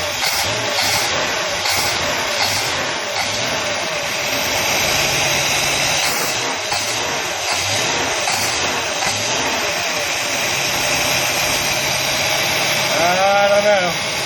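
A Chrysler 440 V8 in a boat runs at low rpm, a steady, droning engine note with a windy, breathy hiss that holds evenly for the whole stretch, then ends in a brief rising whine.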